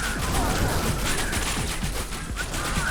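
Dense gunfire and explosive grenade launcher fire in a shooter video game, a continuous loud barrage of overlapping shots and blasts throughout.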